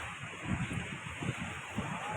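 Sea waves wash onto a beach at Madhavpur, a broad, rolling surf rumble with gusty wind noise across the microphone, fairly near and steady, with no clear talking.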